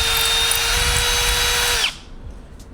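A power drill whines at a steady high pitch as it widens a screw hole for a garage LED light, running loud and close for nearly two seconds before spinning down and cutting off into quiet room noise.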